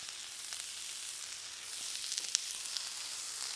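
Onion mix with seasoning for a Philly cheesesteak frying in a coat of oil on a hot surface, a steady loud sizzle with a few small pops near the end and no talking.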